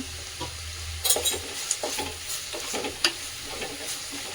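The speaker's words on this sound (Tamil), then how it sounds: "வெங்காயம் நல்லா வதங்கட்டும்." Onions sautéing in a pan with a soft continuous sizzle, plus intermittent stirring scrapes and a couple of sharper clinks, moderately quiet and nearby, with no voices.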